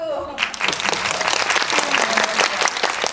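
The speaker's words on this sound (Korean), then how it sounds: "박수." An audience at a film screening Q&A for 'Drive My Car' claps to greet director Ryusuke Hamaguchi, a sudden burst of dense applause with sharp individual claps after a brief voice at the start.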